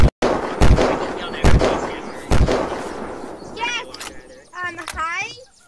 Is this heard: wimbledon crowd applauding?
no